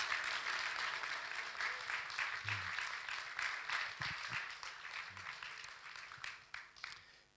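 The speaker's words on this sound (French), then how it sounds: "On peut l'applaudir." A church congregation applauds after a testimony, with steady clapping that gradually thins out and fades toward the end.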